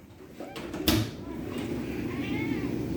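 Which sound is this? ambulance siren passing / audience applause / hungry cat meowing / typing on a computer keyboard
hungry cat meowing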